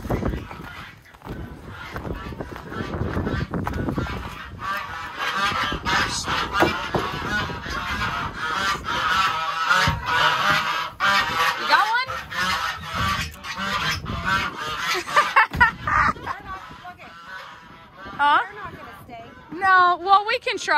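A duck kept with other waterfowl honks and calls repeatedly, loud and close, mixing with people talking nearby across a fairly long stretch.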